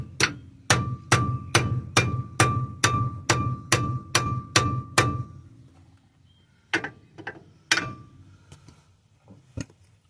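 Hammer strikes driving parts back into place: about ten sharp, evenly spaced metallic blows in a fast run, then a pause and a few scattered, looser taps, close and loud with no talking.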